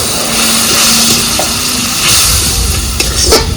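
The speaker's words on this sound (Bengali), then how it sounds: "মশলাটা যাতে ভালো করে ভাজা হয়" Spices including turmeric, cumin, chili powder, salt and sugar fry in hot oil with a steady close sizzle and hiss, stirred now and then with a few light scrapes.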